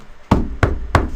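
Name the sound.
knocking on a front door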